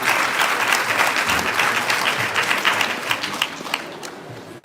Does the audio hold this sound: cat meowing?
no